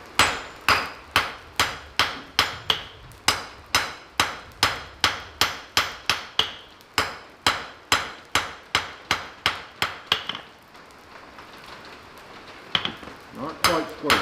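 A blacksmith hammers hot steel on an anvil at the forge in a fast, even series of ringing, close blows for about ten seconds, then pauses before a few more strikes.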